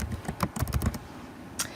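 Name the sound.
typing on a computer keyboard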